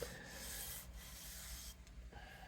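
Belt sander truing up the bottom of an acoustic guitar part during repair of a Martin HD-28, a faint steady abrasive rubbing with short pauses as the piece is lifted and pressed again.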